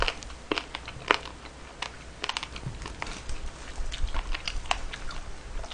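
Crunchy pork cartilage (odolbyeo) is chewed close to the mic, with irregular sharp crackling bites and crunches scattered over a low background.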